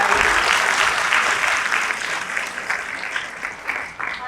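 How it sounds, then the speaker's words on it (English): Audience at a content-creation event with influencers gives a big round of applause, steady dense clapping that gradually thins toward the end. "Big round of applause for Bilal, guys."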